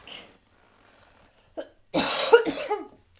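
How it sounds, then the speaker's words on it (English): A single harsh cough bursts out after a brief quiet throat sound, close and loud, with a couple of rough follow-up hacks trailing off. "Ooh, that pesky cough."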